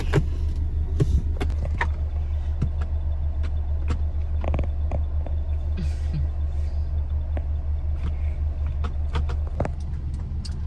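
A steady low engine and road rumble inside a car as it drives slowly through town looking for a parking spot, with scattered small clicks and rattles over the continuous hum.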